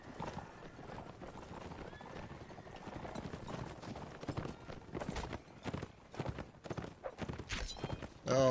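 Horses gallop with dense, rapid clip-clop hoofbeats and occasional whinnies during a Napoleonic Wars line battle video game, a steady busy clatter that swells in places, with faint voices mixed in.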